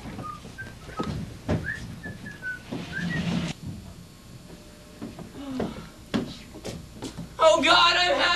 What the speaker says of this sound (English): He walked home, singing and whistling like a lark.